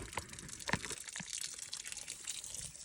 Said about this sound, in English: Once you start pulling the water, let gravity do the rest, and just drain the whole tank.